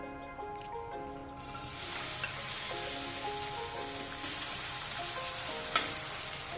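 Onion sizzling in hot oil in a kadhai, a steady close crackling fry that swells after a quieter start, with a faint tonal hum running underneath.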